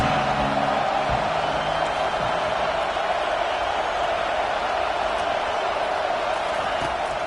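A stadium crowd roars in the College Football 25 video game on a big third down, a dense, steady wall of cheering noise that holds loud and unbroken throughout with no speech.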